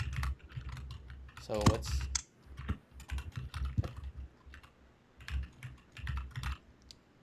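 Fingers tap on a computer keyboard in bursts of quick, light clicks at close range, with a person talking briefly in between.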